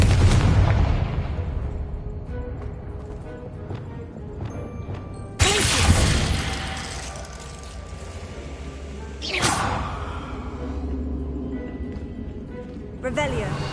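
A Confringo blasting spell detonates in the Hogwarts Legacy video game, with a loud booming burst, another sharp blast about halfway through and a third later on, each trailing off into rumbling debris and ambient noise.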